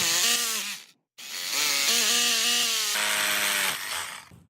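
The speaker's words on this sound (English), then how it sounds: "Drill some holes in this rock." A loud, high-pitched drill whines steadily while boring holes in rock, pausing once briefly before revving back up and grinding on, close and harsh.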